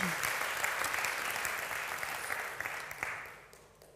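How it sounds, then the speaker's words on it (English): Warm audience applause for a keynote speaker at a conference opening session, a full dense wash of clapping that gradually thins and fades out toward the end. "A warm round of applause for her."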